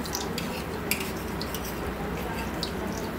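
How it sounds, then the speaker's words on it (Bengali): Malpua pancakes frying in a pan of hot oil, a steady soft bubbling hiss running throughout with a few faint clinks of a utensil against the pan. "এবার এগুলোকেও ভেজে নেব।"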